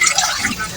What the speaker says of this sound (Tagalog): Balawan natin ng malamig na tubig para mabilis lumamig.